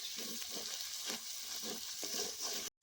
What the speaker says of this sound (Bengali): এখন আমি আবার ভালো করে মশলাগুলোকে ভেজে নিচ্ছি